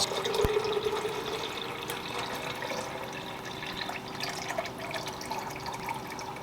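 Wastewater sample is poured into a settleometer up to the 1,000 line, giving a continuous close splashing, trickling pour that stays steady throughout, with a faint hum behind it.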